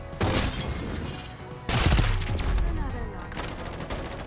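The Bar 95 sniper rifle in the video game Farlight 84 fires three loud, booming shots about one and a half seconds apart. Each crack is followed by a ringing tail, and a voice talks faintly underneath.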